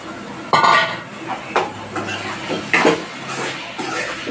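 Boiled prawns are stirred into a curry in a pan, giving several distinct metallic clinks and scrapes of a spoon against the pan at irregular intervals, close and fairly loud.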